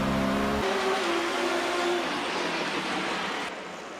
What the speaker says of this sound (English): Piero Taruffi finally finds his moment to shine, executing a perfectly timed maneuver to overtake Luigi Musso's Maserati